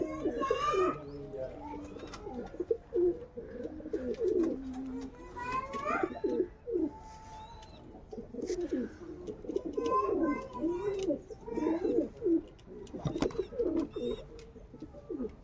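Several pigeons coo in low, repeated throaty phrases during a tournament flight of seven birds in open air, close and fairly loud, with occasional chirps and brief gaps between bursts.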